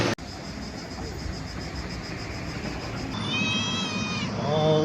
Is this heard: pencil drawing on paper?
no